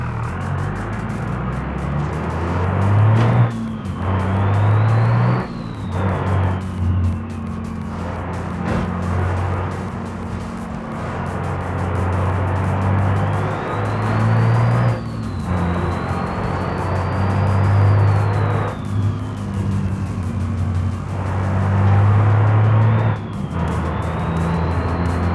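A car engine in the BeamNG driving game revving and downshifting under throttle, droning loudly throughout, with rising and falling rev sweeps as the gears change.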